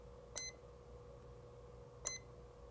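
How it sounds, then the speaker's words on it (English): A nERGY siren controller sounds its warning that the arrow light is switched on: two short, high electronic beeps about two seconds apart, faint and thin over a steady low hum. "you're going to hear a constant beep like that every 8 seconds, that you have something turned on."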